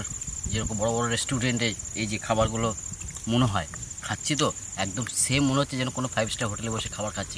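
Crickets chirp steadily by a riverside in a village at night, a continuous high insect trill running under close, continuous speech.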